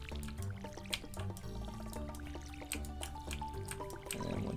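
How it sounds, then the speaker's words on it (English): Crops being watered with a watering can in the farm game Stardew Valley, with soft dripping and splashing sounds that repeat in quick succession under background game music. "And you gotta water them, obviously."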